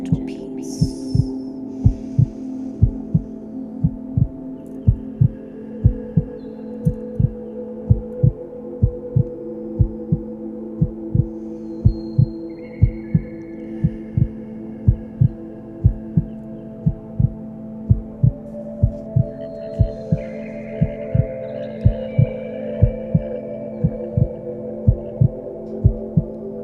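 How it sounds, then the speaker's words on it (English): A heartbeat thumping in a slow, steady rhythm, a long run of regular low beats over a soft continuous hum, heard alone without speech. "Feel the heartbeat."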